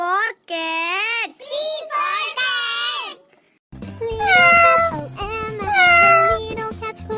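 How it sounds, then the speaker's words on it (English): A cartoon cat meows repeatedly in a children's phonics song, with long, wavering meows over a light musical backing, loud and close. "Little cat whose name was Mr. Meow"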